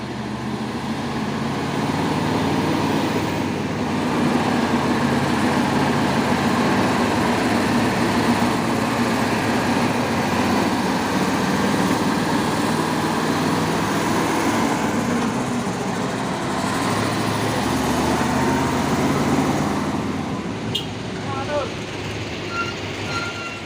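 Fuso trucks pass on a road, a loud continuous engine drone and rumble that swells and fades as heavy vehicles go by, with faint chatter and a brief high beep near the end.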